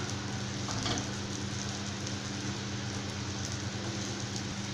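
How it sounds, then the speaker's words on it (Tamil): A carrot dosa cooks on a hot pan with oil spread over the top. It gives off a dense, even, close sizzle that holds steady throughout. "ஆயில் சேர்த்துட்டு இந்த மாதிரி மேலே தேய்ச்சி விட்டுடலாம்"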